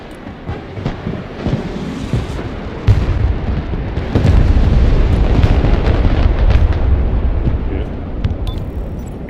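High-explosive tank shells bursting in the Broken Arrow video game: a string of heavy booms and crashes, deepening into a sustained rumbling barrage midway, with a player talking over the battle.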